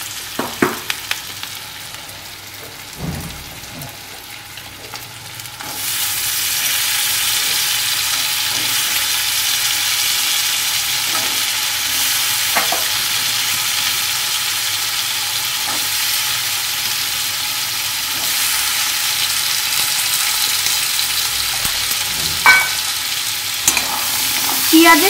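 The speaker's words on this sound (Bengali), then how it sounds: "পেঁয়াজের সাথে আলুটাকে একটু ভালো করে ভেজে" Potato added to already browned onion in a hot pan starts a loud, steady sizzle that holds for most of the stretch, with occasional clinks of stirring, after a quieter opening.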